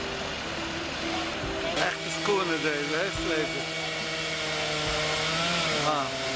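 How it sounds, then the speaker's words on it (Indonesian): Chainsaws clearing large fallen trees tangled in power lines after Hurricane Sandy in Kiryas Joel, a continuous whining engine drone with pitch rising and falling as the saws bite, heard at moderate distance alongside other activity. "menggunakan gergaji mesin untuk membersihkan jalan dan memastikan keselamatan"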